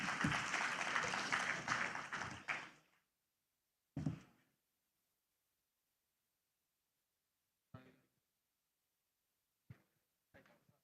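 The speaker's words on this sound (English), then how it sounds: "A big round of applause for Kamal Bhai." Audience at the Bangladesh Investment Summit 2025 applauding a speaker onto the stage, a few seconds of hearty clapping that quickly dies away, followed by silence with a couple of brief soft knocks or clicks.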